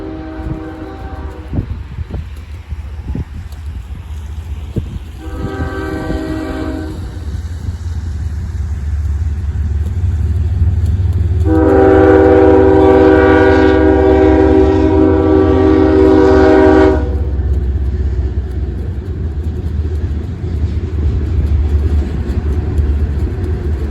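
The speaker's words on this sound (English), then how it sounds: "The train the headlights belonged to was CSX local freight L332" A heavy CSX local freight train rumbles past a railroad crossing at close range, its deep horn sounding in a short blast, then a longer sustained one over the rolling clatter of wheels.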